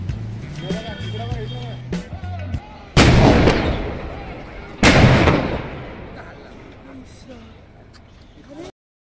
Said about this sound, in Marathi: चला आता मी तुम्हाला दाखवतो चित्रपटात ब्लास्ट कसा करतात ते.